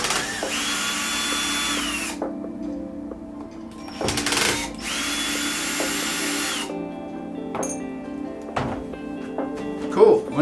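Cordless power drill backing out two small screws from a Onewheel electric skateboard's controller, two sustained whirring bursts of a couple of seconds each, close and loud, with light clicks and handling noise between them.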